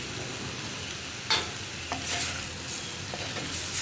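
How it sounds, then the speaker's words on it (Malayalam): Tomatoes cooking over a high flame in a pan for a Kerala chicken roast, stirred with a spoon: a steady low sizzle with a few sharp scraping strokes near the middle and later, no talking. "നന്നായിട്ടൊന്ന് ഇളക്കി മിക്സ് ചെയ്തെടുക്കണം."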